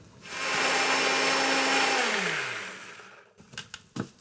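A blender whirs loudly and steadily, blending lemon juice as the first step of courgette hummus, then winds down and stops, followed by a few light knocks and clatters from the jug.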